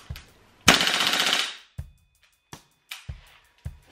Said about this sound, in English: And now some full auto.